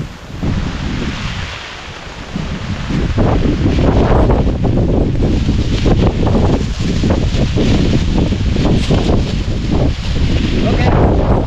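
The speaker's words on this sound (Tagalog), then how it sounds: "lakas ng ulan, oh." Strong wind and heavy rain outdoors during a storm, a loud sustained roar of gusts battering the microphone with dense rain hiss, constant and close, with possible faint voices underneath.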